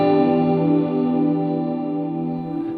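An electric guitar played through a Headrush MX5 preset with boost, compressor, multi-chorus, dynamic delay and long reverb rings out as one sustained shimmering chord, loud and alone, slowly fading.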